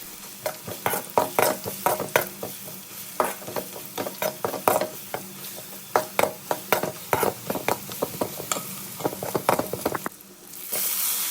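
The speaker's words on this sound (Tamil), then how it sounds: "வெங்காயம் நல்லா பொன்னிறமாக வரணும் இஞ்சி பூண்டு போட்டுக்கலாம்" Onions frying with ginger and garlic in a pot for a Tamil goat head curry, stirred with a spoon in quick repeated scrapes and clinks over a steady close sizzle, no voices.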